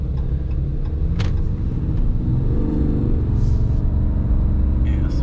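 A 2024 Dodge Ram Laramie with a Cummins turbo diesel, Banks upgrade, accelerates at wide open throttle. The deep, steady engine rumble and road noise stay loud and continuous from inside the cab.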